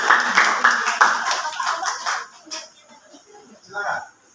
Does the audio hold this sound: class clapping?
yes